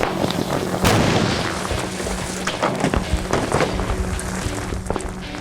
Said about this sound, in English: I'd say that was an explosion.